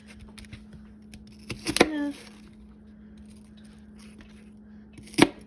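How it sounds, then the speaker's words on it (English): A knife slices peeled onions finely for French onion soup, with a few scattered, sharp cutting strokes, the clearest two several seconds apart, over a low steady hum. "now I'm going to begin to slice them very finely"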